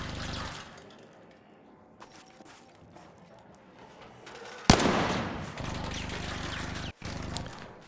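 Gunfire in ARC Raiders: after quieter ambient game sound, a sudden loud burst of shots erupts and sustains as a dense rattling volley, cut briefly by a sharp dropout before resuming.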